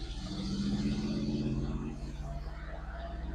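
Engine of a 1966 Chevrolet Bel Air barn find as its automatic transmission downshifts while slowing down: a steady low rumbling drone whose pitch drops and settles partway through, continuous and close, with no talk.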